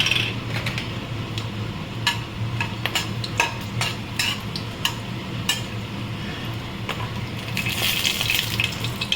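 Bay leaf and whole spices for tempering sizzle steadily in hot ghee for a homemade Kashmiri chicken, a continuous frying crackle with scattered sharp pops, stirring scrapes and a brighter hiss swelling near the end.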